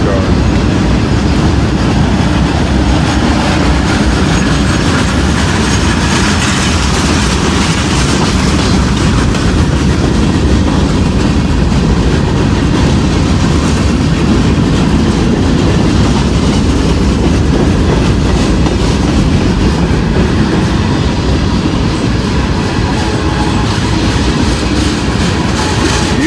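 A freight train with old boxcars rolls past close by, its loud, continuous rumble carrying a steady clickety-clack of wheels over rail joints throughout.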